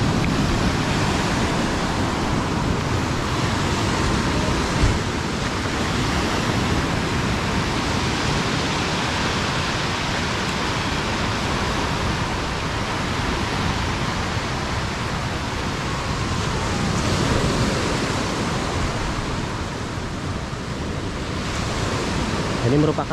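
Steady broadband wash of ocean surf at Pidakan beach in Pacitan, where a river flows into the sea, roaring continuously and fairly loud with slight swells and some wind rumble, no voices heard.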